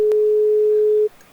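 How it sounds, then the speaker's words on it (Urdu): A phone line gives a single steady busy tone after a disconnected call, one long note that cuts off near the end, followed by quiet. "آپ کی آواز آنا بند ہوگی تو ڈسکنیکٹ ہو گئی آپ کی کال"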